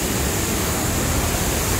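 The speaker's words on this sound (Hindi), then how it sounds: "वहाँ से और नीचे गिर रहा है वो पानी।" Large waterfall at Tirathgarh in Chhattisgarh, a steady, dense roar of falling water filling the whole clip at even loudness, with no voices.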